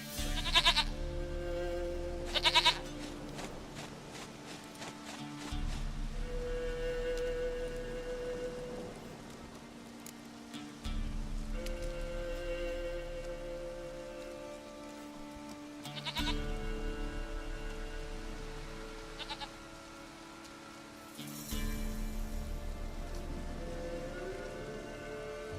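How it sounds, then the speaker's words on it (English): A goat in The Witcher 3 bleats in short repeated calls over steady rain pattering on a surface, with a low droning musical bed running throughout. "Goat of mine, dearest, sweetest goat."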